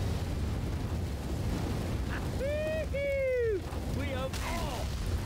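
Roaring fire spreads in Left 4 Dead 2, a dense, constant crackling rush with a few whistling cries rising above it.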